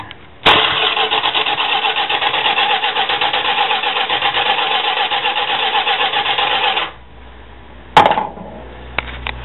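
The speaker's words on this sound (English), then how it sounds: "hold your throttle blades open, then turn the motor over." A 318 engine in a Plymouth Road Runner with a Comp Cams Xtreme 268 cam cranks over with throttle blades held open, a loud rhythmic starter churn lasting several seconds, then stopping, followed by one short mechanical clunk.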